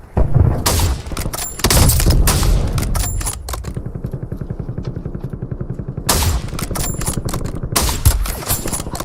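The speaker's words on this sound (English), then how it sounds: "I'm under fire." Heavy gunfire in the Warzone battle game: loud, close bursts of automatic fire with dense rattling runs of rapid shots, a brief lull, then more bursts near the end.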